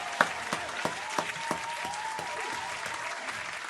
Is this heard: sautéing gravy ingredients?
no